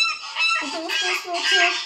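A voice imitates a goose, giving three or four nasal honking squawks in quick succession, close and fairly loud.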